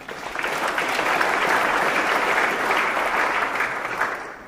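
Sustained applause from residents at a community water meeting, clapping for volunteers; a dense, steady wash of many hands that swells and then fades toward the end, with no talk over it.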